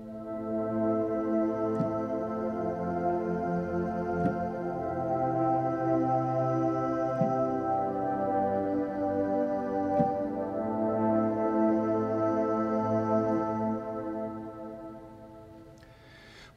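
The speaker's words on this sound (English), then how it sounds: "I'm also using another one called Hummer." Sustained Hummer synth pad in a worship keyboard setup, pitched up an octave, with an airy shimmer on top. Steady layered chords hold evenly throughout with slow changes and no voices.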